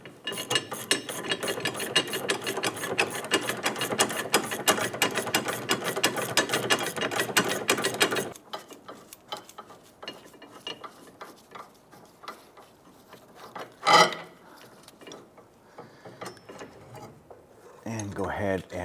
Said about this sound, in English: On the top, you're going to use an 18mm wrench, 18mm socket.